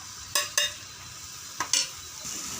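Ginger-garlic paste and spices sautéing in a pan for a country chicken curry, with a soft steady sizzle under a few sharp scrapes and clicks of a spoon stirring against the metal.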